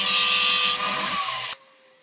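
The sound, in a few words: grinding off metal parts of T-bar key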